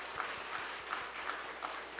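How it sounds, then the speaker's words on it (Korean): A church congregation at a New Year's Eve worship service claps in thanks to God, a fairly quiet, sustained patter of hands with a few louder rhythmic accents. "하나님을 향해서 우리가 감사의 박수 한번 올려드릴까요?"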